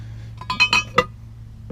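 A pink cased glass vase, milk glass and small crystal pieces clink together as they are handled, three or four bright, close, quick taps followed by a faint final ting over a low background hum.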